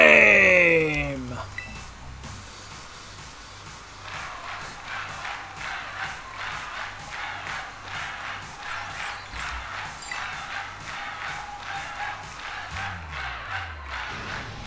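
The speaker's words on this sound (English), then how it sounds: "This crowd's so loud it could wake the dead." A loud, dense crowd cheers and roars continuously at an event in the video game Pokemon Violet, with music and a short voice at the start and a steady pulsing swell of noise throughout.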